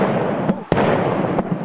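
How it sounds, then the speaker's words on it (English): Controlled detonations go off outside a storage facility in Pennsylvania, several sharp bangs and pops over a loud rumbling background, one especially abrupt burst in the middle, with no talk. "You can hear explosions in this video obtained by ABC station WPVI outside a storage facility"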